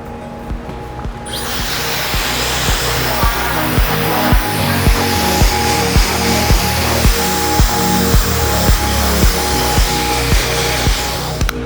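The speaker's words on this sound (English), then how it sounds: "I'm going to grab my blow dryer, dry it off" A hair dryer blows steadily for most of the clip, starting abruptly after a second and holding a loud, continuous whir with slight rhythmic fluctuations.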